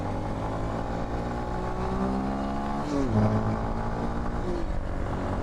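A motorcycle engine runs steadily nearby while riding in Indonesia, a continuous drone that rises in pitch around the middle as the rider revs, with a faint voice underneath.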